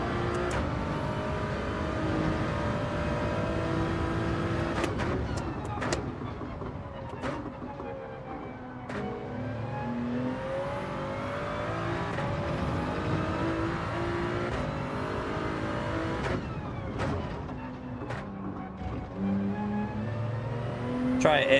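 Car engine in Gran Turismo 7 held at full throttle, a loud continuous roar whose pitch climbs in repeated sweeps, broken by sharp gear-shift drops, sustained over roughly twenty seconds with talk faintly underneath.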